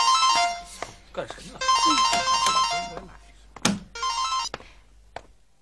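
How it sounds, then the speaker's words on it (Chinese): A mobile phone ringtone plays in a classroom as loud, repeating melodic bursts that stop and start. A person speaks over and between the tones, with a few soft knocks. "我接个电话，对不起啊"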